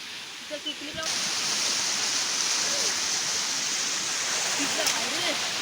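Water pours over a small village check dam in a steady, close rushing roar that starts abruptly after a brief quieter moment, with faint voices beneath it.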